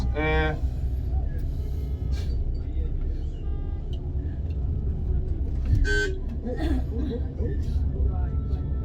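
Busy Paris street traffic with car horns tooting in short bursts near the start and again later, over a constant low engine rumble, while someone talks throughout.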